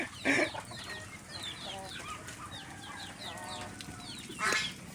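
Chickens cluck repeatedly at close range in a farmyard where ducks are also kept. Louder squawking bursts come near the start and end, with faint voices in the background.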